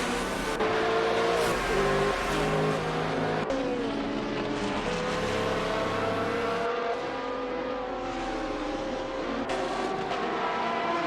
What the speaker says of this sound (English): We just saw some intense racing action in the simulator